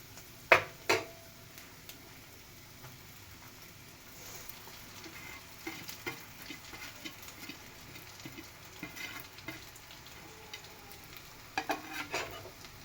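Egg noodles with carrot, onion and vegetables are stir-fried in a pan: a low, steady sizzle under scraping stirs, with a couple of sharp utensil clanks at the start and a cluster near the end.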